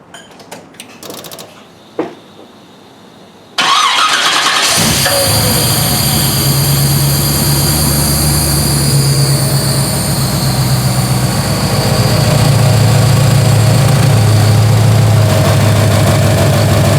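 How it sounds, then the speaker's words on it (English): A car engine with a new serpentine belt conversion starts for the first time. A few clicks and a brief crank come first, then the engine catches and settles into a loud, steady idle that drones on to the end. "so we're going to start it for the first time"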